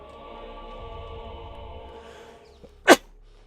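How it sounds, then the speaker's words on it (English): A single sharp human sneeze bursts out near the end, loud and close, after a few seconds of quiet droning game background. "Had to sneeze."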